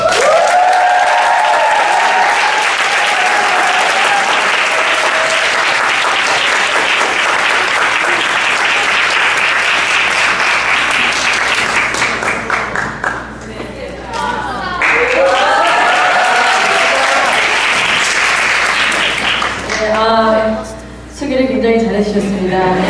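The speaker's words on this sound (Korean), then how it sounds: "우레와 같은 함성 소리와 박수 소리로 맞이하겠습니다" A crowd at an evangelistic gathering welcomes a comedian guest with loud, sustained applause and cheering for a long stretch. Talk comes in over the clapping later on, with a few brief lulls.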